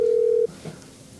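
A telephone gives a steady, loud tone for about half a second as a call is placed, then cuts off to quiet room noise and a brief faint rustle.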